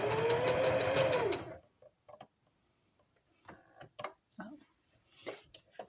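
A sewing machine runs in a brief loud whirring burst while pajamas are sewn, then stops, and soft scattered clicks and handling noises follow in quiet.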